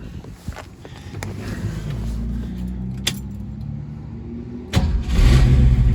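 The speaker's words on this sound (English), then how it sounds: "Start it up." A 1968½ Ford Mustang R-code 428 Cobra Jet V8 with a new water pump and hoses cranks over and catches, settling into a steady, loud rumbling idle that swells louder near the end, with a few sharp clicks along the way.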